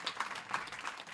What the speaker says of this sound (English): So we could clap now for the first panel